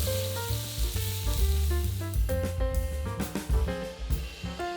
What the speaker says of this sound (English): it's time to deep fry these beauties. Fry the cookies in batches.